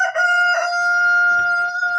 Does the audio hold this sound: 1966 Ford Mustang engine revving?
no